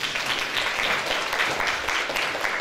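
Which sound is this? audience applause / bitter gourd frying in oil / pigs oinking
audience applause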